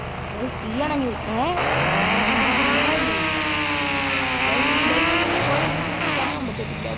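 A motorbike engine in a video game revs and whines continuously, its pitch sweeping up and down with each shift and throttle change. The sound stays loud and close throughout, and a voice talks over it.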